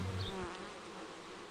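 A honeybee colony hums in a dense, even buzz soon after the hive has been divided, a steady close drone with no voices over it.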